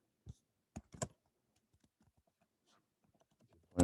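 Several sharp key clicks from a computer keyboard tapped while writing a veterinary letter template, scattered in short bursts with quiet gaps and soft faint taps between them.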